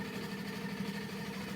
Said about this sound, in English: we have a quilting machine working away here. That's the noise that you can hear